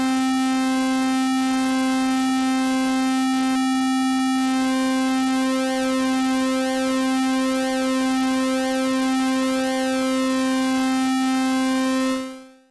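A synthesizer pulse VCO holds a steady buzzy tone while its pulse width is modulated, the harmonics shifting and sweeping in timbre, continuous and clean until cutting off at the end.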